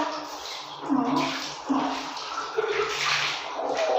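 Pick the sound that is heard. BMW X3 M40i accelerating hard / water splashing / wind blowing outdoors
water splashing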